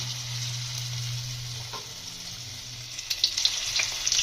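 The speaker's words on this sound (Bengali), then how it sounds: "বাকিগুলো ভেজে নেবো।" Drumstick flower fritters sizzle steadily in hot oil in a home kitchen, a continuous crackling hiss with scattered pops toward the end; no voices.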